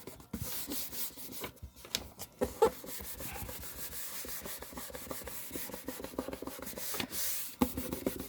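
Decoupage paper is smoothed onto a craft box by hand, giving soft, irregular rubbing and brushing strokes that come close and quiet, with brief pauses between passes and no talking.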